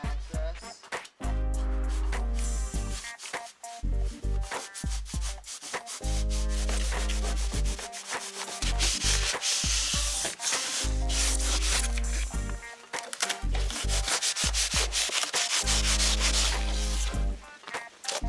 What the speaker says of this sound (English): Mike comes back with a handsaw and slices off the excess.